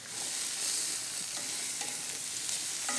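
Steak searing in a hot cast iron pan gives a steady, close sizzle with crackling pops and faint scraping stirs, constant and moderately quiet, with no talking.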